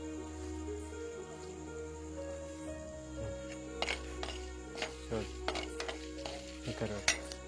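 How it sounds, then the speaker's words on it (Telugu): Black pepper and curry leaves fry in a pan with a steady close sizzle, while sharper stirring scrapes and crackles come in bursts through the second half; no one speaks. "కరివేపాకు ఇవన్నీ కూడా కొంచెం ప్రాపర్గా వేగాలన్నమాట"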